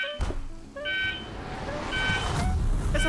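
On a livestream, an electronic alarm goes off in short repeated tonal beeps and buzzes, loud and close, over a busy background.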